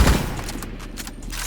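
Assault rifle fire in the video game Bad Business, a loud burst of rapid shots with the recoil left uncontrolled, the first report strongest and the rest running together into a dense stream.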